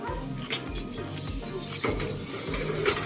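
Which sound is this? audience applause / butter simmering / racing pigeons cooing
racing pigeons cooing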